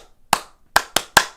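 Hands clap in four sharp, separate bursts from a gathered crowd, the first alone and the last three in quicker succession, loud and close with no talk.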